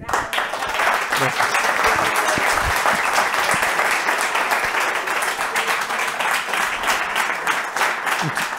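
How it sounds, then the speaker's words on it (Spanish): An audience at a book talk breaks into steady, close, continuous applause that holds at full strength throughout, with a voice faintly audible over it. "un aplauso para..."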